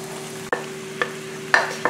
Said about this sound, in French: maintenant je vais rajouter la viande hachée